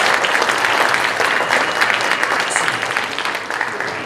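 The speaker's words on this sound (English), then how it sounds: "And a round of applause for our nice job." A crowd at a college illusionist performance keeps up sustained, loud applause for a returning volunteer, thick and even at first and gradually thinning toward the end.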